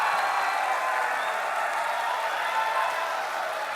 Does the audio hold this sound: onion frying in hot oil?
no